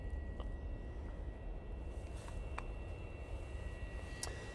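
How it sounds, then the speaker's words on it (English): A Pilatus PC-24 business jet on approach to Manchester Airport gives a steady, distant, broadband engine roar that holds even throughout, with faint outdoor background. "we have this little PC-24 making its way down towards us"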